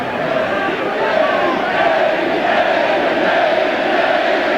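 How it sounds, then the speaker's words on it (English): A packed basketball arena crowd at a 1987 LSU versus Kentucky college game chants a coach's name in a loud, sustained roar that fills the whole clip without letting up. "The crowd obviously solidly behind Sutton with the Eddie Eddie chant."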